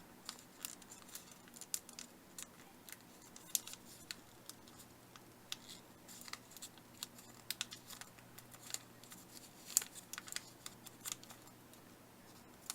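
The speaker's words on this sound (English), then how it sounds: "fold it over to the left again, unfold these two flaps, fold upwards" Paper being folded and creased by hand for an origami bell flower, a quiet run of irregular soft crinkles, taps and sharp little snaps, close and faint, with no voices.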